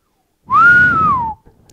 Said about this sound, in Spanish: emitió un silbido